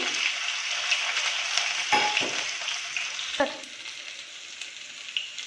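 Roughly crushed, unpeeled garlic cloves and a small piece of ginger sizzle steadily in hot oil, a close, continuous frying hiss broken by a few sharp stirring clatters.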